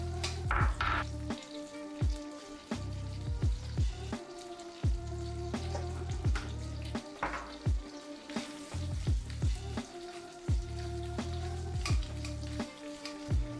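Minced garlic and chili flakes fry in a pan for an aglio olio, giving a steady close sizzle with scattered sharp pops and crackles throughout and no voices.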